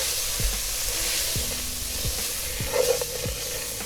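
Ketchup being stirred into a sizzling toor dal base in a pan: a steady close sizzle and hiss with repeated soft scraping strokes of a spoon against the pan.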